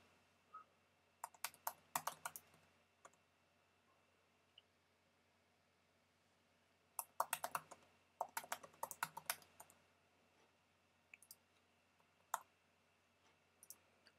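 Typing and clicking on a computer keyboard while setting up a chatroom screen in a design studio app: short bursts of close, crisp keystrokes around two, seven to nine and twelve seconds, with quiet gaps between and no talk.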